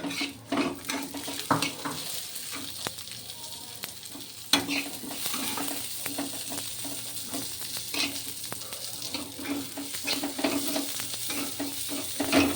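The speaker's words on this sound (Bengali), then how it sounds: "ডালটাকে তেলের সাথে আর কড়াইশুঁটিটাকে খুব ভালো করে ভেজে নিচ্ছি" Lentils and green peas being fried in oil in a pan, with a steady close sizzle, repeated stirring scrapes and occasional clinks of a utensil against the pan throughout.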